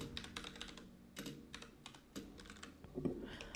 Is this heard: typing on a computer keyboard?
yes